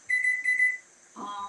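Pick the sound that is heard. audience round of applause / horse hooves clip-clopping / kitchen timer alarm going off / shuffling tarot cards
kitchen timer alarm going off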